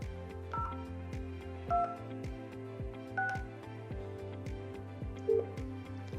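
Telephone keypad tones from a 3CX phone system, a steady sequence of distinct dialing beeps pressed one after another over a soft background hum, with no voices.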